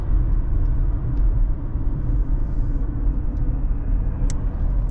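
A 1985 Buick Riviera drives steadily with a low engine rumble and road noise filling the interior, heard from inside the cabin, with faint clicks above.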